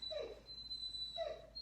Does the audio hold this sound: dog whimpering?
yes